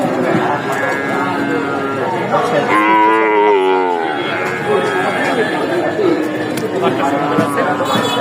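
A heifer gives a long, loud moo close by at a cattle market in Bogura, while people talk and chatter around it in a busy crowd.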